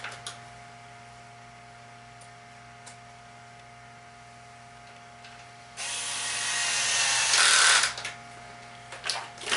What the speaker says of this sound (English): Make sure you got your torque settings set on your electric drill so that you don't over torque these into this plastic.